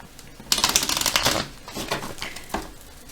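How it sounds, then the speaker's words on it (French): Oracle cards shuffled by hand in a quick run of papery riffling flicks, loud and close, easing into softer scattered shuffles with no talk. "Allez, on va mélanger quand même."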